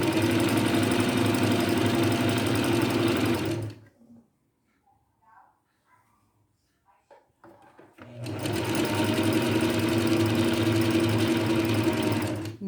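A sewing machine stitches the second seam of a short-sleeved blouse in two loud, close, steady whirring runs, separated by a few seconds of near silence with faint handling clicks.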